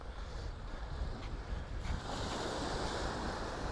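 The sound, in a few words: sea waves on the beach at Waxham, Norfolk coast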